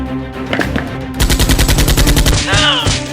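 Video game gunfire: a rapid, loud burst of automatic shots fires in an even rhythm after a short lead-in of lighter sounds, with a brief whooshing tone near the end.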